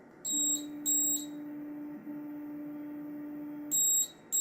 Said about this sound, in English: that moves the Z axis and it beeps and settles on what it thinks is the home position.